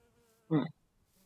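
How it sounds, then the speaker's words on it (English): A single short buzzing burst from bees around a Grovecraft beehive in a Minecraft-style modded game, a brief insect drone swelling and cutting off against near silence. "Grovecraft bees."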